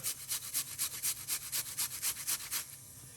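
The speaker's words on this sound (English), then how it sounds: "let's grate this little piece of a ginger, roughly about a teaspoon of ginger." A small piece of ginger is rubbed against a grater in a quick, regular rhythm of about a dozen scraping strokes, close and crisp, before it stops.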